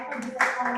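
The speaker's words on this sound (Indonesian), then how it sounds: "Tepuk tangan dong." A short burst of hand clapping from a group in a classroom during an Islamic religious education teaching practice, mixed with nearby speech and lasting under a second.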